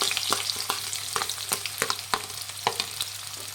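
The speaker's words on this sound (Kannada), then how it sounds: "ಒಂದೆರಡು ಈರುಳ್ಳಿನ ಉದ್ದ ಕಟ್ ಮಾಡಿ ಈರುಳ್ಳಿ ಹಾಕ್ತಾ ಇದ್ದೀನಿ" Long-cut onion slices fry in heated oil for a green chilli mint chicken gravy. A steady close sizzle runs under repeated sharp taps and scrapes of a spoon against the pan, with a faint steady hum beneath and no voices.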